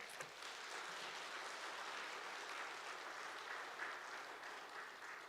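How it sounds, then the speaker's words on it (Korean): A church congregation at a spring revival meeting gives faint, sustained applause in a large room, welcoming the pastor. The clapping is steady and distant, with no talk over it. "우리 목사님 나오실 때 광림의 따뜻한 박수로 환영하도록 하겠습니다"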